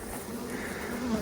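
Steady, close insect buzzing from many honeybees at a hive, a dense continuous drone with no voices.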